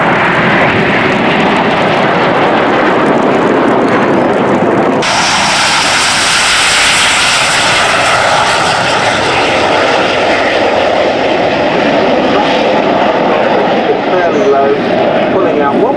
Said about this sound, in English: Each pilot's going to cross-flight pass with the other pilot before performing the opposition barrel roll.